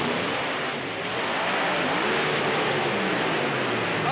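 Drag-racing trucks, including a Dodge Rampage, roar at full throttle in an indoor dome, a dense, continuous engine blare that swells slightly and holds steady, with no speech over it.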